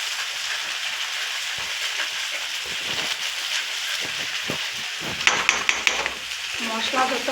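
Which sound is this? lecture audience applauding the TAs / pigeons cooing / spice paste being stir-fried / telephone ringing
spice paste being stir-fried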